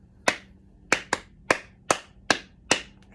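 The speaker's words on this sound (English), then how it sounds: "I'd like you to clap this back for me" Seven sharp hand claps in an uneven rhythm, played back by a small class in a children's music lesson, each crisp and close with short gaps between, one quick pair near the start.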